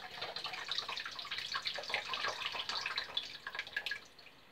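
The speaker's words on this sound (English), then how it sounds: "all you're doing is tipping that water back into the jug." Water tipped from jars back into a jug splashes and trickles steadily, a continuous liquid pouring sound with small drips, fairly close and alone.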